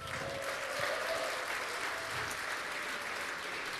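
A hall audience at an election-night broadcast gives the band warm applause, sustained crowd clapping at a steady, fairly loud level throughout.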